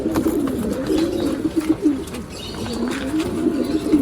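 A male Rekdhar pigeon coos continuously nearby, a loud, rolling, throaty warble rising and falling in waves, with faint background chirps and no voices over it.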